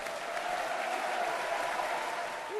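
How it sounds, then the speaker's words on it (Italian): Sustained, dense applause fills the Italian parliament as Sergio Mattarella is elected President of the Republic, a steady roar of many clapping hands, loud and unbroken throughout. "Un lungo, scrosciante applauso accoglie l'elezione di Sergio Mattarella"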